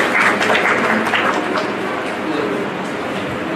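Loud applause from an audience welcoming a speaker, Dr. Saeed Roshan, to the stage. It is dense and sustained throughout, with background voices mixed in.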